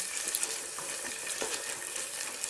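Onion cooking in oil until it browns, a soft, even sizzle with faint crackles running throughout, close by and quiet, with no voices.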